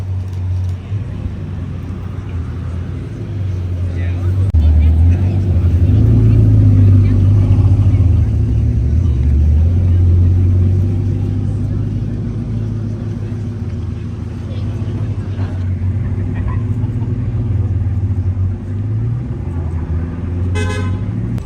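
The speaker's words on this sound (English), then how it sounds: "Two Bugattis coming up. The red Pur Sport, the yellow Pur Sport, ketchup and mustard." Two Bugatti Chiron Pur Sport hypercars, one red and one yellow, rumble past on the streets of Monterey during car week, a loud low engine drone swelling and fading amid street noise and a brief horn toot.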